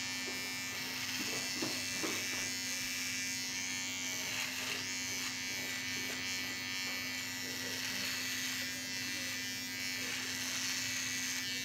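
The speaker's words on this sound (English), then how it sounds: "after we take care of the scruff with the precision trimmers" Precision trimmers buzzing steadily up close while trimming short facial scruff, a continuous electric hum with slight changes as the blades move across the face and no talking.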